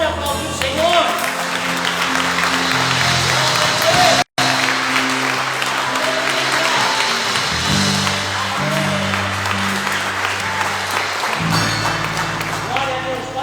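A church congregation applauds during a service, a sustained wash of clapping beneath amplified music with chords and a bass line, cut by a brief dropout partway through.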